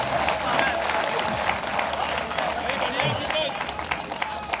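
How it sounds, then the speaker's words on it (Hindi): Audience applause and clapping at a Hindi poetry gathering rise as a dense, steady wash of many hands, with crowd noise close and continuous throughout. "आप एक बार दोनों हाथ ऊपर उठा के तालियां बजा करके मुझे बताओ"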